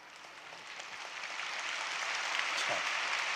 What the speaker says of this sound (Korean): 그런 가정이 되겠다는 박수를 감사합니다